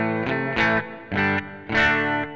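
Guitar chords played through a Sonicake Amp Toast desktop amp, distorted with a chorus-like shimmer, sounding in four separate strummed bursts with short gaps, close and fairly loud, no voices.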